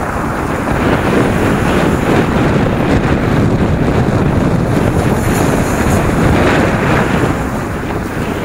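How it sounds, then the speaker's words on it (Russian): A boat runs across the Northern Reservoir in Rostov-on-Don, pushing up waves; a steady roar of wind buffeting the microphone and rushing water fills the whole stretch, loud and continuous. "Красиво гонит волны."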